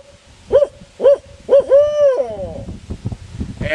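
A person imitates a hoot owl with the mouth: three short hoots followed by a longer drawn-out hoot, loud and close, trailing into softer breathy sounds.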